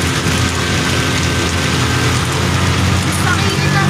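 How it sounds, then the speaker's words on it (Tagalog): Heavy rain pours down while a car is driven along a road, making a loud, dense, continuous hiss and rumble with no clear breaks. "Ayun Ang ulan. Lakas ang tubig."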